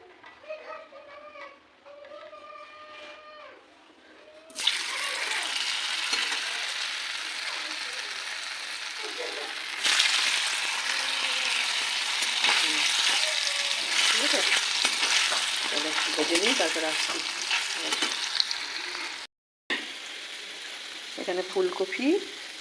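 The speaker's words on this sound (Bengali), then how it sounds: "এই পনিরগুলোকে আমি এখন হালকা করে ভেজে নেব" Paneer fries in hot oil on a gas stove, a loud, steady sizzle that starts abruptly and runs on with stirring, with someone talking and children's voices faintly in the background.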